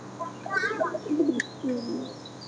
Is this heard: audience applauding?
no